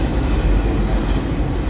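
A BNSF train passes at speed close by, a dense, steady broadband roar with low rumbling and no breaks through the short stretch.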